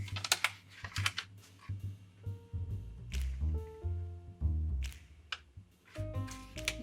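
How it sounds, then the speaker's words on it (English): Square origami paper being folded along its diagonal, with repeated crisp crinkles and taps from close by, mixed with soft low rustling and brief tonal touches. "Next we'll valley fold in half along both of the diagonals"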